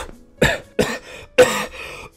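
Three separate, close coughs with short pauses between them, each a sharp harsh burst that fades quickly.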